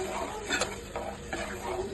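A spoon scrapes and stirs through dried prawn gongura curry after water is added to the pan, giving soft wet swishes and a few faint knocks against the pan under a steady background hiss.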